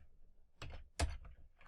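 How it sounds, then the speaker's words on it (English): A few keystrokes on a computer keyboard while entering an Excel formula, two brief clustered clacks close by and faint, with quiet gaps between. "let's type that in and see how we go when we type it"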